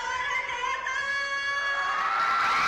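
A crowd shouts and screams at an awards event, a loud, sustained wall of high-pitched shrieks and cheers that swells toward the end.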